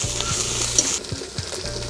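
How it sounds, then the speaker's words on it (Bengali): Ginger-garlic paste and spices fry in hot oil for a rohu fish-head moong dal, hissing loudly and steadily up close. Dull thumps of a spoon stirring recur every half second or so. "এটা এর মধ্যে দিয়ে আবারও ভালো করে মশলাটা ভেজে নেব"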